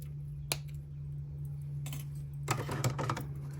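Wire cutters trim wire on a wire-wrapped beaded focal necklace with Dragon Skin Jasper. One sharp snip comes early, followed by a quiet stretch over a low hum, then a cluster of small clicks and handling ticks near the end.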